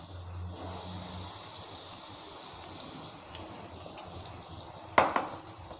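Semolina malpua fry in oil in a kadhai, giving a soft, steady sizzling hiss with a brief clink or bubble burst near the end.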